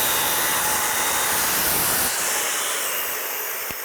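Power saw ripping a wooden shim lengthwise during a temporary deck joist repair: a loud, continuous hissing whine that holds steady, then drops slightly in level toward the end, with no talk.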